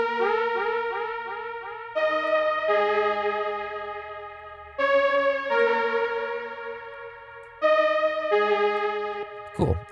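A synth melody bounces back and forth through a ping pong delay with feedback, each note repeating and fading in echoing trails.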